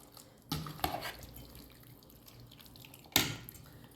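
Sesame oil poured from a bottle while making Andhra mango pickle, heard as two brief, quiet splashy pours separated by a few seconds of near silence.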